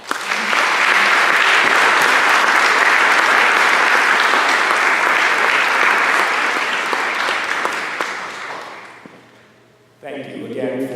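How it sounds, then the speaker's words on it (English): Sustained applause from an audience at a township board of education meeting honoring students, dense and steady clapping for about nine seconds before fading out, then a voice begins speaking. "Let's give them another round of applause."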